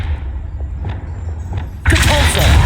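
A Confringo spell blast in Hogwarts Legacy lands as a sudden loud burst after a quieter stretch of ambient rumble, the blast's roar lingering to the end.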